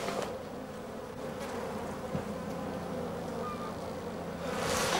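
Honey bees buzz steadily and densely around hives in Namibia, a continuous close hum without pause, swelling slightly at the end.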